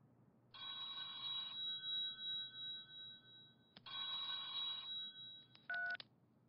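A telephone rings during a call: two long, steady electronic rings followed by a brief third burst. It is clear and close, with quiet pauses between rings and no talking.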